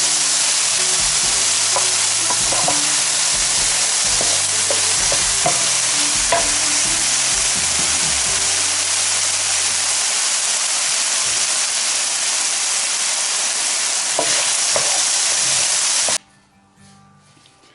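Carrots and potatoes for a Filipino chicken empanada filling sizzle steadily in a pan, with repeated close stirring scrapes over the frying, until the sound abruptly cuts to quiet near the end.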